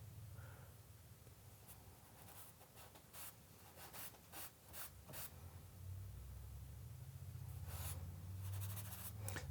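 A pencil sketches a figure in jeans on paper, with close, quiet scratchy strokes in short bursts and a faint low hum underneath that grows steadier toward the end.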